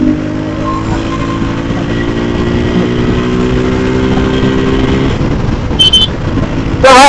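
A 155cc motorcycle engine running on a street race alongside 200cc bikes, a loud steady engine drone with shifting pitch as it accelerates, plus wind rush and a couple of brief sharp bursts near the end.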